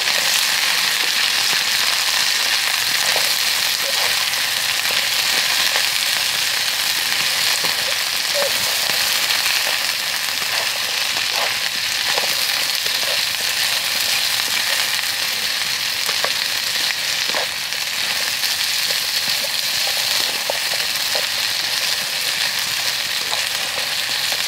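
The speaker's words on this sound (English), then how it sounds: "let's get them in the pan as well. Give it all a good stir up." Hash frying in a pan outdoors in the woods gives a loud, dense, continuous sizzle with faint scattered crackles and soft stirring under it throughout.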